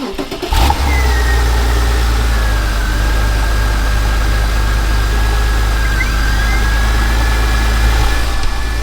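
A Porsche 993 Carrera flat-six cranks and catches within the first second, then settles into a loud, steady idle with a deep low rumble and a faint whine held throughout, close by and without speech.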